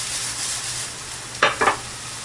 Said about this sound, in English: So here it's sizzling now.